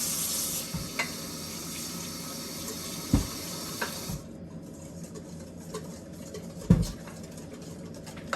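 Cold water pours into a pan of sugar on the stove, giving a steady faint hiss and patter with a few soft clunks and knocks, and the flow ends about halfway through.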